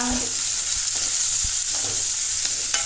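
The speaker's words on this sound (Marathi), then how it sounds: "आतां भितर कांदो घालुया आनी सोमतीच हिरवी मिरची घालुया।" Onion and green chilli hit a hot pan, giving a constant crackling sizzle with scattered stirring knocks and scrapes, close and fairly loud, no voices.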